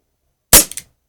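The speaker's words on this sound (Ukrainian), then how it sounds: "роблю по три постріли в хронограф кожною кулею" Umarex UX Tornado CO2 revolver fires a single sharp, loud shot of a steel BB into a chronograph, followed by two quick fainter clicks or ticks, then silence.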